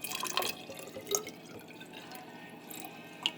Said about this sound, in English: And then I pour it into the cylinder.